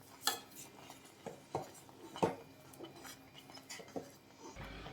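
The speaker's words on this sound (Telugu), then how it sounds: "ఇలా పంచదార యాడ్ చేసుకొని బాగా మిక్స్ చేసుకోండి" A spoon stirs sugar into mango rava kesari in a pan, making a series of irregular metallic clinks and scrapes against the pan, moderately quiet with no talking.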